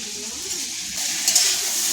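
Barbati chorchori, a spicy yard-long bean curry, sizzling steadily in a pan while being stirred, close and continuous with a few faint utensil scrapes.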